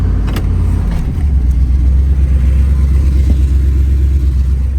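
A 1990 Buick LeSabre Estate engine idling high after a cold start, a loud, steady low rumble close by that holds constant throughout with no voices.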